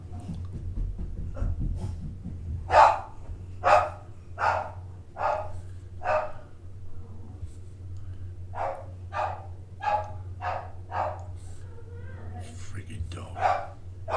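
A dog barks repeatedly from another room, a string of sharp yaps in irregular bursts over a steady low hum, with soft breathy noise between.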